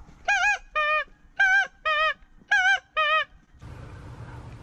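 A speckle-bellied goose calls during a youth waterfowl hunt, six loud, close honks in three quick pairs, followed by faint outdoor noise.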